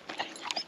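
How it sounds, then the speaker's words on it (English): A dog, apparently on a wood-working site where a garden table is built from logs, gives a couple of quick, close sounds in a brief burst, with no talk over it. "well, this is Bailey the Wonder Dog"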